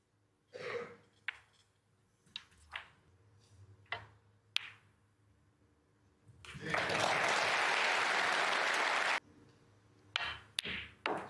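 Sharp clicks of snooker balls striking each other are spaced out in a quiet arena at the 2023 Scottish Open final. Then the audience breaks into about three seconds of strong applause, and the crisp ball contacts resume afterwards.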